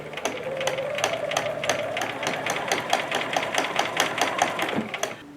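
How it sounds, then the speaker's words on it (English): A sewing machine runs a straight stitch through thick fabric, its needle thumping in a fast, steady mechanical rhythm up close, with a faint whine in the first seconds and the motor winding down at the end. "Put this machine and needle down, straight stitch."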